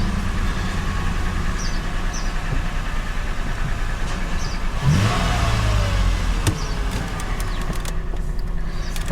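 Cabin sound inside a 5th-generation Toyota 4Runner fitted with a catback exhaust and cold air intake: steady low engine drone with a brief rise in revs midway, continuous and moderately loud, no talking.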